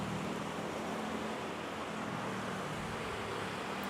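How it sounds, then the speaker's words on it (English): Steady, faint road noise with a broad traffic rumble carries from outside Manila's NAIA airport, with no single motorcycle pass standing out clearly from the continuous hiss. "And the motorcycles."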